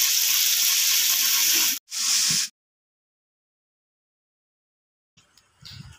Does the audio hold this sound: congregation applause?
no